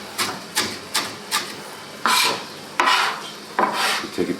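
A knife chopping on a cutting board: several quick light taps, then three heavier scraping chops, close by with no talking.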